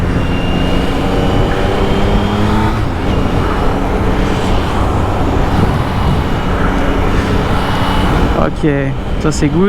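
Yamaha XSR900GP motorcycle with the same three-cylinder engine as the MT-09, ridden onto a ring road after warming up: a steady, loud engine drone runs throughout, under a rider's voice.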